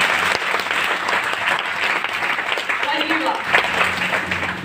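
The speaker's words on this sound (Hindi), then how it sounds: "जोरदार तालियां" Loud, dense audience applause fills a training session hall for a distributor event, steady throughout with faint voices underneath.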